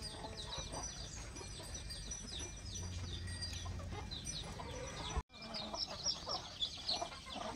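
Free-range hens cluck steadily around a farmyard, several birds overlapping at close to mid distance, with a brief drop to quiet near the end before clucking resumes.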